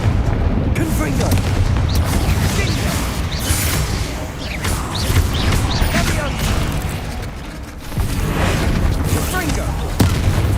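Confringo blasting spells explode again and again in Hogwarts Legacy on PS5. Loud, dense booms and rumbling impacts roll on continuously, with game voices mixed in.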